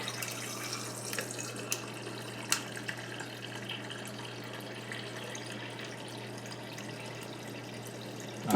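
Water running from a refrigerator's ice and water dispenser, a steady hissing stream that continues alone for several seconds with a few faint clicks and knocks.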